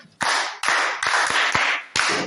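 A classroom group claps for pupils after a literacy game, giving five or six loud, close bursts of applause in a quick, uneven rhythm with no talking.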